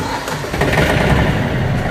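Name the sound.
Yanmar AF210 mini tractor engine starting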